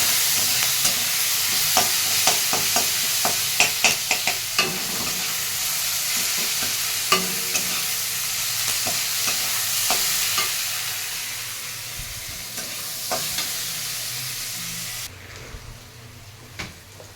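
Onion frying in a pan and being stirred, a steady close sizzle broken by repeated scraping and tapping spoon strokes that fade to quieter frying near the end.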